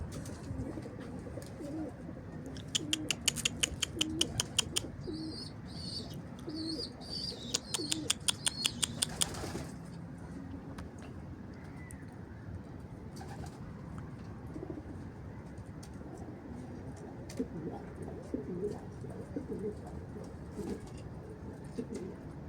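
An Arap Çapar Kelebek pigeon coos softly nearby in fading evening light, with two bursts of rapid wing flapping and quiet background noise.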